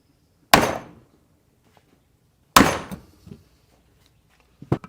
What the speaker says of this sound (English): I am going to reinstall it with the impact driver as well. Once I snug it down, I'll give it 2 good hits to tighten it down.